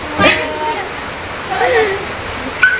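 Water pouring down steadily from a leak in a home, a continuous close rushing splash with a few faint voices and chirps over it.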